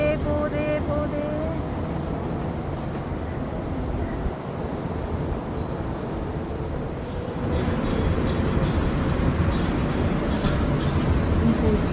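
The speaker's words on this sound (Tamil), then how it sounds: "ட்ரெயின் போகுதே போகுதே போகுதே போகுதே." A train passes on the line at Tengah, Singapore, a steady broadband rumble with wheel and rail noise that holds throughout and swells slightly toward the end, with no talk over it.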